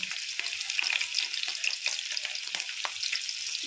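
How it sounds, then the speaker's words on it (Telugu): Pakodi of ivy gourd, sweet corn and peanuts frying in oil on a low flame gives a steady, close crackling sizzle with fine bubbling pops throughout, no talking. "నేను సిమ్లో పెట్టుకొని కాల్చుకుంటే టైం పట్టిద్ది హైలో పెట్టుకుంటే మాడిపోతాయి కదా సిమ్లో పెట్టుకోవాలి"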